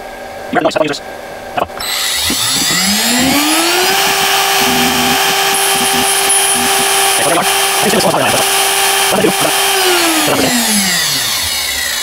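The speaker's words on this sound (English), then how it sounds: "I first will engage the spindle to lower it, because if it's not turning it will break definitely." A milling machine spindle spins up with a rising whine, holds a steady loud hum for several seconds, then winds down, with clanks of setup handling at the start and someone talking over it during work on a rubber magnet for a tweeter.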